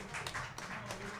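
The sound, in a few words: audience applause for vocalist Lee Moe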